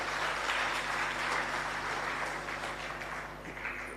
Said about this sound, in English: Can we give the Premier another round of applause?